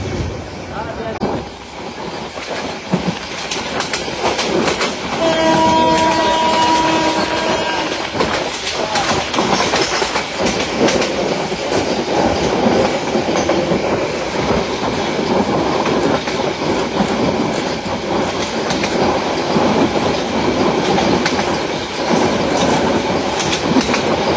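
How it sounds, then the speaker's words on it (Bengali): Heard from aboard, a Titas commuter train picks up speed, its loud steady rumble and rail clatter filling the space while a brief tonal whine rises partway through. "ট্রেনটি তার নচ খুলতে শুরু করেছে।"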